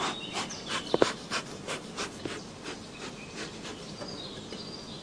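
Honeybees humming steadily around an open hive during a swarm check, a soft continuous drone with faint scattered ticks and rustles, fairly quiet throughout.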